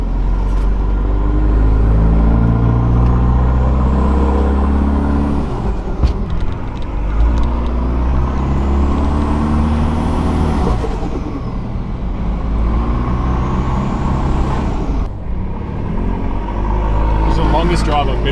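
A stock car cruises at light throttle, its engine a steady low drone with road and wind noise rising and falling, loud and close from inside the cabin while people talk.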